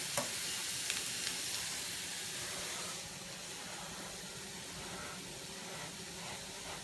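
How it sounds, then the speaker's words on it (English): A pot of budget meal-prep food bubbling hard as it is stirred, making a dense steady hiss and sizzle with a few faint clicks early on, then settling slightly quieter. "pretty bubbling quite hard, so I'm just going to give that a stir"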